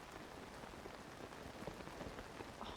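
Rain falls steadily in a Zelda video game, a soft, even patter of drops on surfaces with no voices over it.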